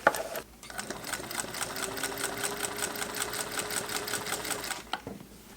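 A Singer Heavy Duty sewing machine stitches a denim jeans hem, a fast, even mechanical whir with rapid rhythmic clatter running for about four seconds before stopping, close and moderately loud.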